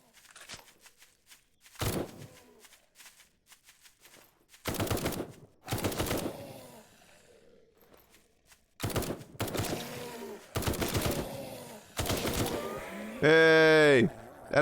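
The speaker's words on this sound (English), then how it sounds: "Gun, I can shoot the other one." Bursts of gunfire cut down zombies in the Night of the Dead video game, arriving in spaced volleys over several seconds, with a voice speaking between the shots.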